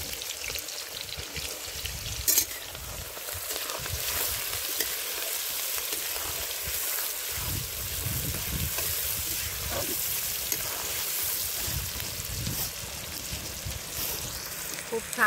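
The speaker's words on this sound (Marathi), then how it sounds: "आता आधी तेल टाकायचं, जिरं टाकायचं, आता कांदा टाकायचा." Onion frying in oil with cumin seeds at an outdoor farm kitchen, a steady loud sizzle with occasional stirring scrapes running throughout.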